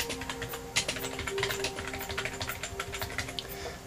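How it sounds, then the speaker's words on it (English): Typing on a Mac keyboard being used to control a PC, a close, rapid run of clicking keystrokes in an uneven rhythm over a faint hum, with no voices. "So I can type something on the PC"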